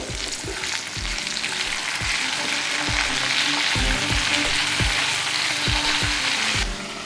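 Potato, capsicum and tomato frying in a pan over medium flame, a loud continuous sizzle with regular spatula scrapes and knocks against the pan, close by and without talk.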